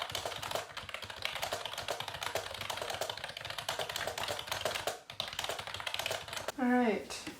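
Fast typing on a computer keyboard, a steady run of close, crisp key clicks filling most of the stretch, with a short tonal sweep near the end.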